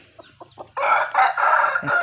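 A rooster crows nearby, loud and drawn out after a few short clucks, with a soft low call near the end.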